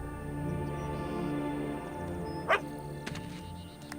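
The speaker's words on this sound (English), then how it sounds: "Poor dog is scared." In the game Fable 2 a frightened dog lets out a single short whimper or yelp, faint against a low background hum, followed by a couple of soft thuds.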